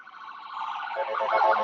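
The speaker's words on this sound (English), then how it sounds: "It's a little ambulance." An ambulance siren wailing at a distance and growing louder, its rising and falling tone clear against otherwise quiet surroundings.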